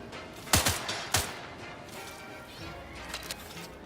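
Gunfire in the video game Outer Worlds 2: two loud, close blasts a half second apart, followed by softer echoing impacts and faint later shots over a low ambient bed.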